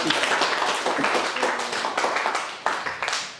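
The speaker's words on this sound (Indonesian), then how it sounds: "Kasih tepuk tangan dulu untuk kelompok" Classroom applause for a group of students at an elementary school lesson, a dense patter of many small hands clapping steadily throughout, fairly near, with a few voices mixed in.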